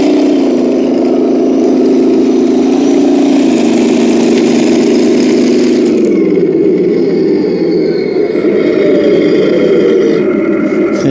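RC King Tiger model tank running loud and steady, with a constant motor whine and the clatter of plastic tracks, its pitch dipping slightly as it turns, with no talking.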